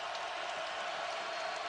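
Gamecock fans create a steady, even roar of crowd noise in a basketball arena, loud and continuous for a brief moment.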